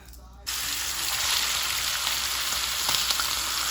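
Chicken sizzles loudly in a hot pan, a dense crackling hiss that starts suddenly and continues steadily, close by.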